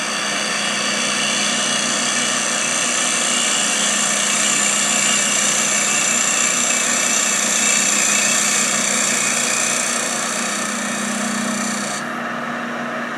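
A woodturning lathe is cutting with a Hope 6mm Pro carbide tool and the bevel rubbing. It gives a loud, steady whirring whine that holds for the full length and drops slightly near the end.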